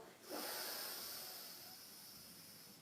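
One close, audible inhale through the nose during a core exercise, sharp at the start and then tapering into a soft, airy hiss over a couple of seconds.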